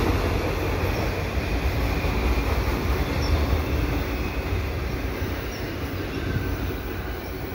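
A CN eastbound manifest freight train hauling loaded auto racks rolls past a station with a steady loud rumble and clatter of wheels on rail, plus faint squeals, continuous and close.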